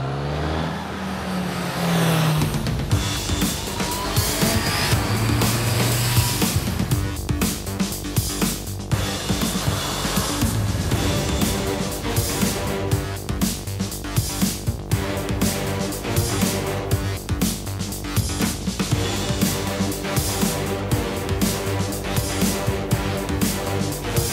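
Honda CBR 650F inline-four motorcycle being ridden, its engine loud and close with rising revs and gear changes, a sustained smooth howl that holds for the whole stretch.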